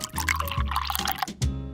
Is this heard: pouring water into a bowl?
yes